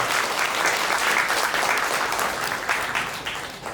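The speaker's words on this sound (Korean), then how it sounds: "신랑에게 다시 한번 따뜻한 박수 보내주시기 바라겠습니다" Warm, sustained applause from a sizable wedding hall audience for the groom, dense clapping that holds strong and then begins to thin toward the end.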